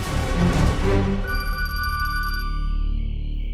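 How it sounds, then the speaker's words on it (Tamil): A telephone rings in a domestic television drama scene. A bright, steady trill starts under a busy sound mix, then continues alone and fairly loud. "ரிங் போகுது"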